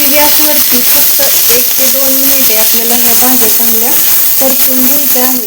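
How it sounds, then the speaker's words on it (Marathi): Tomato, capsicum and onion sautéing on a pan, a constant loud sizzle and frying hiss, with steady background music layered over it. "ह्या भाज्या चांगल्या परतून घ्यायच्या आहेत"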